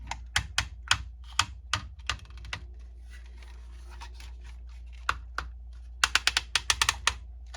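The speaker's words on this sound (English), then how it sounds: "this is one of the few modern figures that has ratchets. Listen to the legs." A Transformers War for Cybertron Siege Jetfire action figure has its ratcheting leg joints worked, giving close, crisp clicks in quick clusters separated by short pauses, with no talking.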